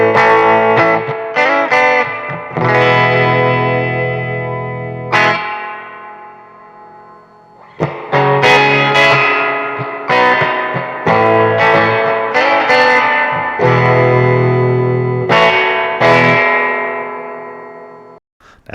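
Electric guitar played through an all-tube 5-watt amp with a transformerless reverb circuit, strummed chords and single-note phrases ringing out loud with reverb tails, pausing briefly around the middle before resuming.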